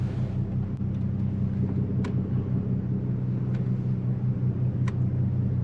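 A 2010 Dodge Charger with a 3.5L V6 out on a test drive, giving a steady low engine and road rumble from inside the car, with a few faint clicks and no voices.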